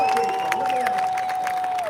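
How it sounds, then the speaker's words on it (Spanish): Crowd noise at a Donald Trump rally in Hialeah, Florida, a continuous wash of applause and cheering under someone speaking close by. "Mira, mira, mira cómo aplauden."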